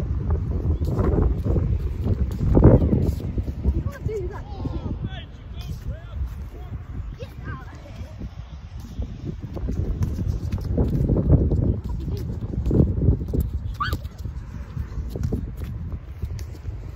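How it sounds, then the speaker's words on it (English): Strong outdoor wind buffets the microphone in uneven gusts during a football crossbar challenge, rumbling loudly throughout while people talk over it. "Ball's still moving, that's how windy it is."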